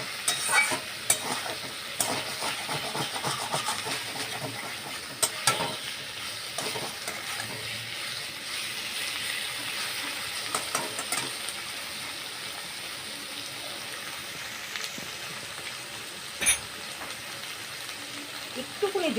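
Flat beans stir-frying with coriander leaf paste in a pan, a continuous moderate sizzle broken by occasional scraping stirs and clinks, close by with no talking.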